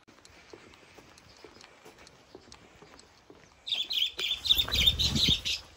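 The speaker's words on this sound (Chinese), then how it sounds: "如果吉祥回来的话，听到三宝的叫声会自己飞回来" A budgerigar starts calling partway through with a run of bright, rapid chirps and chatter, close and fairly loud. Faint scattered ticks and rustles come before it.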